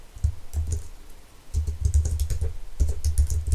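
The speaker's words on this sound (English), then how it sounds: "So we type in" Keys clatter on a computer keyboard in quick irregular bursts of typing, near and moderately loud, with a short pause partway through.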